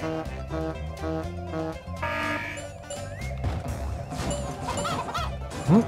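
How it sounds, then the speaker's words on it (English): Cartoonish chicken clucks in the Muppet RaceMania racing game on PS1, a rapid series of bright clucking calls over bouncy game music and effects, fairly loud and steady throughout. "chickens."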